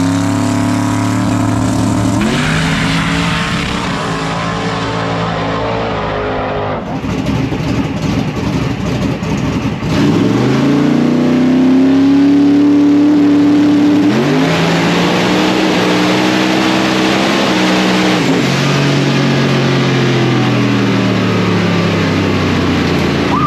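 A 3600 hp Murder Nova drag car with a 482ci engine and 98mm twin turbos on 70 psi makes a pass, the engine roaring loud and near with rising revs, gear changes and sustained full-throttle howl throughout.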